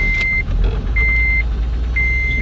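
An Acura TL engine idles roughly after sitting unused in the cold and being sprayed with throttle body cleaner, a loud, close, uneven low rumble with three evenly spaced electronic beeps over it.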